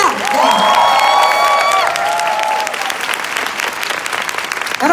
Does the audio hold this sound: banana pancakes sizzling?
no